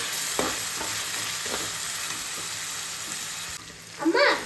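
Tomatoes frying in a pan down to a mash for a spicy prawn roast, a continuous close sizzle with periodic scraping stirs and a louder burst near the end.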